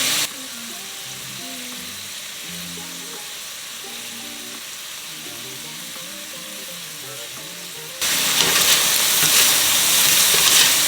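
Shrimp sizzling in a frying pan, a constant crackling hiss under faint background music that suddenly swells much louder and brighter partway through, as if the pan is disturbed or moved closer.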